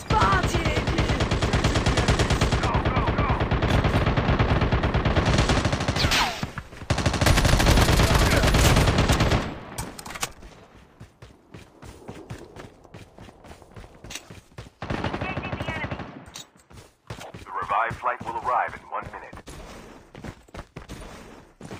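Dense bursts of automatic gunfire from a Call of Duty Mobile battle royale match, loud and sustained for the first half, then sparser shots and footsteps with a brief voice and another volley later.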